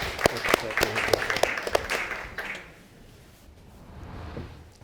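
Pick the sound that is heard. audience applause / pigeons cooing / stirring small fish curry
audience applause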